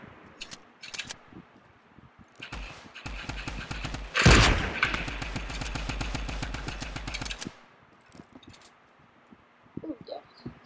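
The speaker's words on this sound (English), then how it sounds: "Where are y'all even shooting at?" Gunfire in the video game Fortnite, rapid repeated shots in a dense volley with a loud blast in the middle, ending after a few seconds and followed by quiet.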